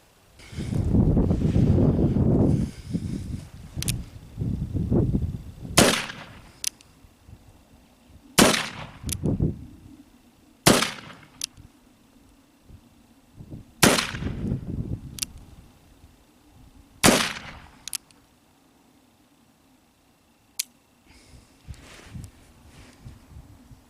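An 1862 Pocket Police revolver fires homemade slick-shot loads at clay targets outdoors, giving five or six sharp, loud cracks spaced a few seconds apart, with wind noise between them.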